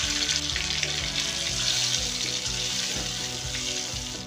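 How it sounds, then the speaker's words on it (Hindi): A paste of tomato, cashew and green chili hits hot roasted spices in a pan and sizzles loudly and steadily throughout, a dense continuous hiss with no voices. "अब इसमें टमाटर, काजू और हरी मिर्च का पेस्ट डाल देंगे।"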